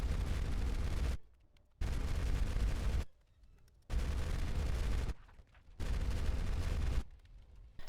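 Sustained bursts of MG240 machine-gun fire in the shooter game Darkest Days, four long volleys of roughly a second each separated by short quiet gaps, loud and close with no talking.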